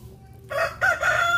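A rooster crows loudly and close by on a farm of breeder gamefowl, one drawn-out cock-a-doodle-doo lasting about a second, with no talk over it.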